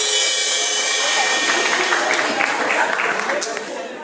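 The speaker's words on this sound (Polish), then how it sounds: "Wielkie brawa" An audience applauds after a lot is sold at a charity auction, with a thick, continuous wash of clapping. Voices carry over it, and it eases off slightly at the end.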